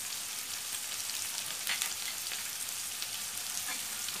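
Prawns and spinach seasoned with salt and turmeric sizzle steadily in a pan, a soft, even hiss with faint stirring scrapes and no talk.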